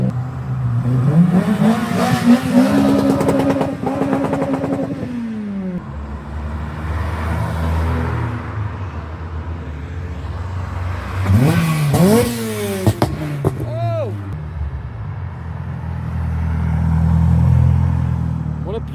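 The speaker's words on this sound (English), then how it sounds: "Ooh, turbo. Oh, the Evo." A turbocharged Mitsubishi Evo at a car meet, its engine revving in rising and falling bursts before easing off to idle, fairly close, with people talking over it.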